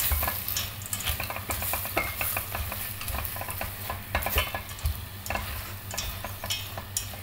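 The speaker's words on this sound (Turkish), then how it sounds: "Beraber karıştırıyorum tekrar." A utensil scrapes and stirs repeatedly through sizzling food in a pot, with a steady frying hiss underneath the irregular clinks and scrapes.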